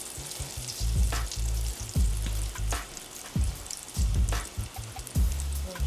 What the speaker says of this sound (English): now we're going to put this in our pan